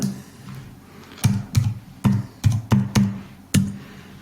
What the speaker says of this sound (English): hit O on the keyboard